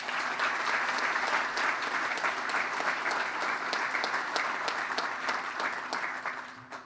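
A big round of applause for the ceremony team at a military promotion ceremony for Maj. Gen. John T. Reim: dense, steady clapping from a crowd that holds for about seven seconds before tapering off at the end.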